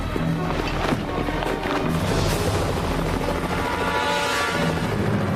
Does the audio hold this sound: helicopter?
yes